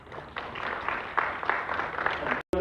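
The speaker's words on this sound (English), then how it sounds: "Give a big round of applause." Audience applause at a technology awards event, a moderate, continuous patter of clapping from a crowd lasting a couple of seconds before cutting off abruptly.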